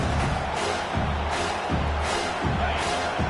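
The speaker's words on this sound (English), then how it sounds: "Here comes this home crowd as the defense tries to get off the field on 3rd down" A home crowd roars steadily through a college football video game as the defense tries to get off the field on third down, a dense wash of cheering noise with low rhythmic rumbles pulsing underneath.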